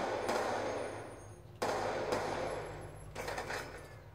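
Video game gunfire comes in bursts of rapid shots, with sharp onsets and fading tails in three or four clusters, heard at moderate volume with no talking.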